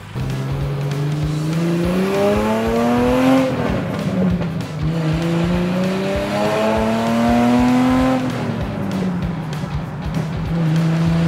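A BMW 635 CSi engine revving loudly up and down through short gear shifts, the pitch climbing, dropping at each change and climbing again, close and continuous.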